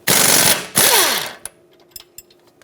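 A ratchet on 17mm strut bolts of a 2013-2018 Hyundai Santa Fe gives two loud, close bursts of rapid clicking, followed by a few sparse metallic taps and clinks.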